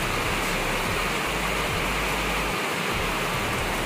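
A dangerous, fast-flowing river in heavy rain gives a steady, loud broadband rush of water with no pauses and no voices.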